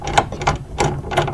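A 14 mm bolt on a Subaru Impreza RS STi seat is turned with a ratchet, giving four distinct close clicking bursts in a loose, uneven rhythm.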